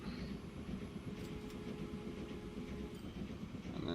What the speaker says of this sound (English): Let's go up a little bit so you guys can actually see the train working in action.